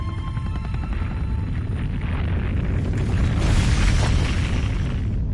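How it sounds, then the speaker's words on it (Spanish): A loud, continuous explosion rumble from the Resident Evil 3 Remake video game, with a deep, booming roar that swells slightly toward the end and no speech over it. "la onda expansiva de la explosión iba a alterar el helicóptero"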